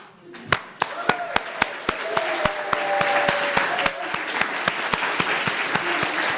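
At a workplace awards ceremony, an audience applauds with a steady beat of sharp, evenly spaced claps that build into louder, fuller applause with some cheering, while a voice speaks partway through.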